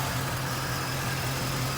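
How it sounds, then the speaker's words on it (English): A Ford Mustang GT's stock 5.0 V8 idles steadily up close, a deep even rumble with a constant low throb and no voices over it. "V8 in the Mustang here."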